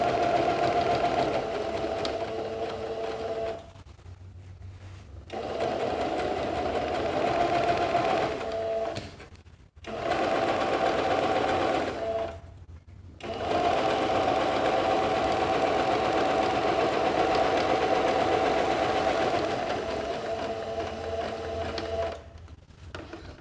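A sewing machine stitches fabric for a small organiser bag, running in long steady whirring bursts with short pauses between them, close and loud, with no talking.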